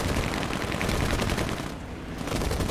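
Sustained machine-gun fire from several fighter planes in the War Thunder aerial combat game, a dense continuous rattle of overlapping bursts that dips briefly near the end before resuming.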